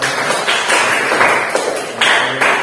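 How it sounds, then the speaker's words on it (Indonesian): A classroom of students applauds, a dense, fairly loud patter of many hands clapping that surges and eases in uneven waves. "kita beri aplaus dulu untuk yang"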